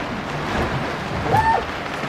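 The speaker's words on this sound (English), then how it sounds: "it's a rainy day at sea" Steady rain hisses over a sailboat at sea, an even wash of patter with a faint brief tonal squeak near the end and no talking.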